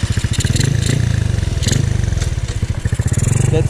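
A stock-board motorcycle engine runs hard during a top-speed test, a steady, rapid loud throbbing with clattering mechanical texture that swells slightly as it revs, close and continuous with no speech.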